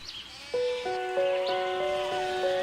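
An old goat gives a few drawn-out, steady-pitched bleats, loud and close, one after another with no one talking.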